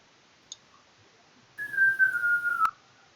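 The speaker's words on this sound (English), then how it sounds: "Whistling while we walk, of course." One person whistles a single sustained note that slides gently downward and ends abruptly. It is close and clear against a quiet background, with no footsteps audible.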